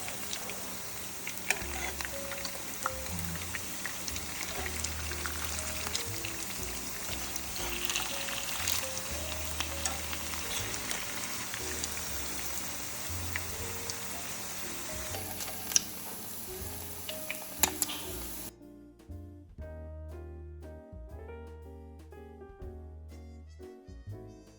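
Shrimp okoy fritters sizzle loudly and steadily in hot oil, with crackling bursts and occasional clinks of a utensil, before the frying noise cuts out near the end, leaving only quiet background.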